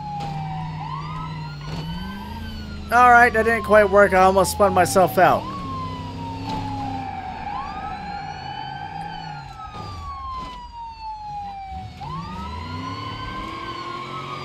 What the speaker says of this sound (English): We got the sirens going now.